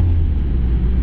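A Mazda MX5 engine rumbles loud and low from close inside the car on a public road, a continuous heavy drone with no voices over it.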